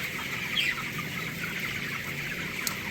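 Steady clucking from a flock of 19-day-old broiler cockerels, with one louder squawk rising briefly above the constant background chatter.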